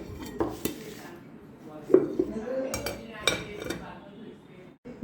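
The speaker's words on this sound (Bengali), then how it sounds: "এখন আমরা বাটিটা বের করে পুডিংটা বের করব। এই অবস্থায় বাটিতে এখন আমরা থালার মধ্যে ঢেলে নিব।" Egg pudding being turned out of a bowl onto a plate brings a string of close clinks and knocks of bowl and dishware against each other, irregular and moderately loud.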